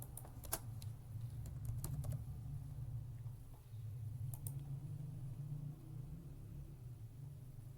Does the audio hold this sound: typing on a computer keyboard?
yes